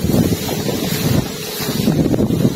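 Strong wind buffets the microphone outdoors where large kites are being test flown, a loud, gusty rumble that surges and roars continuously without any talking.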